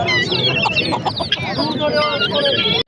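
Many chickens cluck loudly and continuously at a weekly bird market in DG Khan, Pakistan, with occasional crowing mixed into the close, dense flock chatter.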